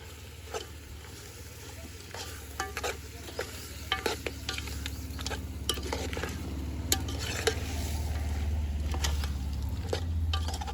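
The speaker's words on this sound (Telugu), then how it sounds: "ఇప్పుడు కలుపుకోవాలి" Ginger-garlic paste is stirred into a country chicken curry cooking on a village wood-fired stove, a low, continuous sizzle punctuated by irregular scraping clicks of the spoon against the pot.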